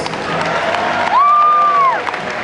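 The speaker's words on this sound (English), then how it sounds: "round of applause for those guys" A convention panel crowd cheers and applauds the Universal Studios team at a Transformers Hall of Fame event, a lively mix of clapping and a prominent sustained whoop rising above the noise.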